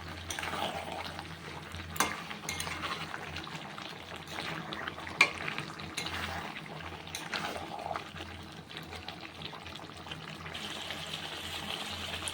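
Water poured into a pan of sizzling chicken curry, a steady bubbling and hissing wash with a few sharp clinks of utensils against the pan, close and continuous without any talking.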